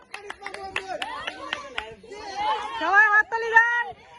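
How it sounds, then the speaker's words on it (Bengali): Audience clapping at a village children's game, scattered sharp claps early then blending with lively crowd chatter and shouting voices close by. "সবাই হাততালি দেন"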